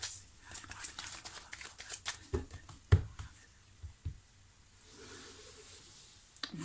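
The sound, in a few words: playing cards being turned over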